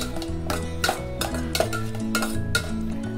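Potatoes being stirred in butter in a pan while cooking chicken pasta, with repeated scraping and clinking of a utensil against cookware over a steady background hum and faint kitchen noise.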